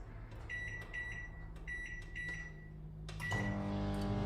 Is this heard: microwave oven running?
yes